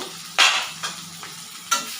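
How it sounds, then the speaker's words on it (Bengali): Pieces of katla fish fry in oil in a wok, producing a constant low sizzle with three or four sharp, bright bursts of spattering oil, heard close and without voices. "আমি একে এক মিনিট ঢাকা দিয়ে ভালো করে ভেজে নেব"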